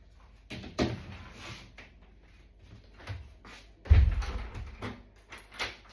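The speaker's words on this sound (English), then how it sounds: "I'm going to shut the back door now because the moths are starting to come in" Back door of a house shut against moths at night: a few soft knocks and handling sounds, with one heavier thud as the door closes nearby.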